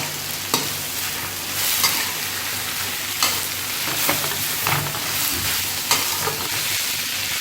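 Close, crackling sizzle of garlic and onion frying in a pan, with periodic scraping and tapping as it is stirred.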